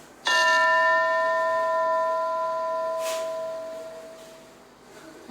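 A single bell strike rings out clearly and lets its bright, sustained tone fade slowly over several seconds, with a faint second tap partway through.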